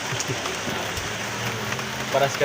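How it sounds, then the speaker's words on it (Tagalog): Dense, steady rain drumming on a surface close by, a constant wash of patter with a few brief faint sounds over it. "Ang lakas talaga ng ulan."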